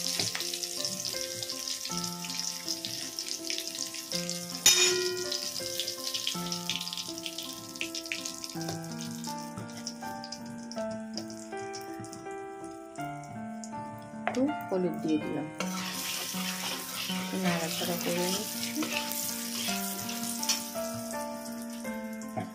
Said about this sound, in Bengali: একদম স্লো করে দিলাম যাতে একটু কাঁচা লঙ্কাগুলো আর কালো দিয়ে একটু ভাজা ভাজা হয়